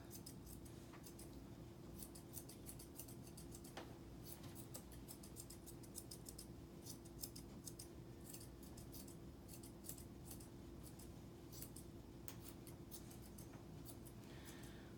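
Scissors snip through a dog's coat during a companion-style grooming cut, a quiet, irregular run of small metallic clicks over a steady low hum with no talking.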